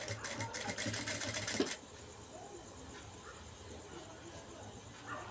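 A sewing machine runs in a steady, fast whirring burst while stitching an embroidered blouse, then stops abruptly about a third of the way in, leaving only quiet room noise.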